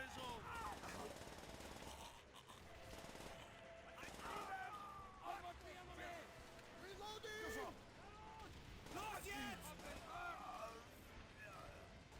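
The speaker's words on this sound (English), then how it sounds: "that dude just got caught in between a bunch of crossfire" Heavy crossfire in Call of Duty: World at War, with dense bursts of machine-gun and rifle fire that keep going without a break, layered under someone talking throughout.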